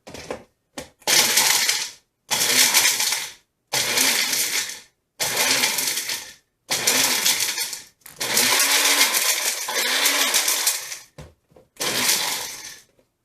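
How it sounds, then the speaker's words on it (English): Blender whirring through jalapeños for hot sauce in repeated loud bursts of about a second or two each, separated by short pauses, with the pitch dropping briefly in a longer run near the end; no talking. "We're getting the wrong consistency with the blender"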